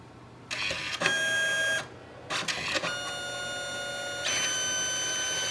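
A Canon Selphy CP1300 photo printer prints a postcard-size photo, giving several whirring mechanical passes with pauses between them, close and clear, then a longer final run.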